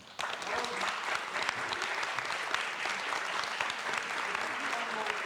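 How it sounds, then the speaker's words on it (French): Applause from the audience at a round-table discussion on historians and archives, a continuous patter of many hands heard at moderate distance and fairly quiet, running steadily for several seconds. "je voudrais qu'on applaudisse"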